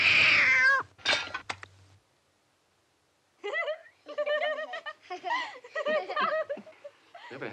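A cat meows repeatedly in a domestic scene, a sharp cry first, then after a pause a run of loud, close, wavering meows and yowls.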